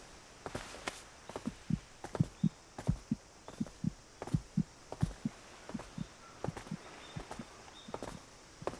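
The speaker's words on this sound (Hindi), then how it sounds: "क्या किसी दोस्त की वजह से तुम्हारी दिल की धड़कन इतनी तेज हो सकती है?" A fast heartbeat thumps steadily in quick, paired pulses, close and muffled, repeating evenly throughout with no voices.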